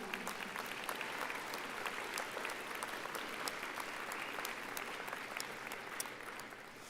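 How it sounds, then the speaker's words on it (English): A round of applause rises from the graduating audience at a Snow College Richfield commencement, dense and steady throughout, with a few sharper claps standing out and the sound easing slightly toward the end. "Would you please give them a round of applause for what they've done for"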